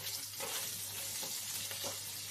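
Potatoes and ridge gourd fry with salt and turmeric in a pan, giving a soft, continuous sizzle broken by a few light stirring scrapes, close but low in level and with no voices.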